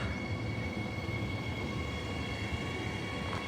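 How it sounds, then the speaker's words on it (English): A steady low rumble of a Fremantle line passenger train rolling past at a distance, with faint high tonal whine running through, no voices. "so Fremantle train is literally right behind"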